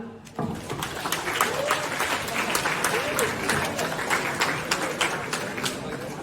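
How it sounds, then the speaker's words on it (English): Applause from a conference audience in a college hall, a dense, steady patter of many hands starting abruptly and continuing for about six seconds, with some speech underneath. "So one clap for Kamal"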